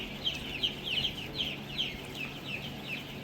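Young chickens in a poultry shed give a steady run of short, high clucks and chirps, about eight evenly spaced calls over a low background hum, fairly faint and with no voices.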